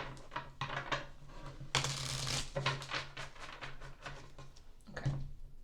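A deck of tarot cards is shuffled in quick riffling bursts, crisp papery flutters close up, with a louder cascade partway through and brief pauses between.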